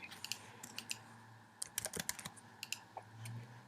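Quiet computer keyboard typing, short bursts of crisp key clicks with brief pauses, close and faint.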